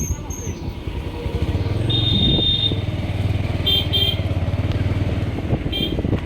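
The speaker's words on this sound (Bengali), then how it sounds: "অনেক গাড়ি টাড়ি যাইতেছে" Vehicles and motorcycles pass along a busy road at a crowded shrine festival (urs), engines rumbling and swelling as they go by, with clattering and brief high tones over the steady traffic noise.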